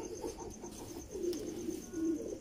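Pigeons cooing softly in a loft, low rolling coos repeating every second or so over quiet background noise.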